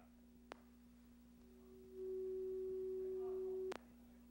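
A telephone on-hold tone sounds as a single steady, pure electronic hum lasting under two seconds. Sharp clicks come before it and at its end, and the line otherwise stays quiet.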